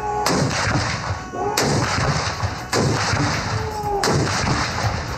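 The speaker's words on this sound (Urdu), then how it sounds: "جبکہ صوبائی دارالحکومتوں میں 21 توپوں کی سلامی دی گئی۔" Cannon fire from a 21-gun salute in a provincial capital on Pakistan's Independence Day: four loud, sharp booms about a second apart, each rolling out over steady outdoor ambient noise.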